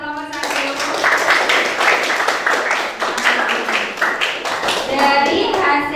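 Classroom applause for a student discussion group, a steady burst of many hands clapping for about six seconds with children's voices mixed in, fairly loud and close.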